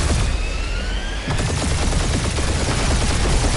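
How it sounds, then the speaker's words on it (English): Rapid, dense gunfire fills a dogfight in a Guardians of the Galaxy video game, sustained and loud throughout, with a whine of passing craft early on and no talking. "We're taking fire."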